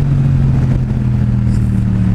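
2016 Yamaha FZ-07 (MT-07) with a Two Brothers full exhaust engine braking in third gear, a loud, steady low droning rumble with a rough mechanical burble, close and continuous.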